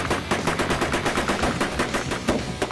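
A Gatling gun fires a rapid, evenly spaced burst of loud, close reports, each round cracking sharply in quick succession for the whole stretch.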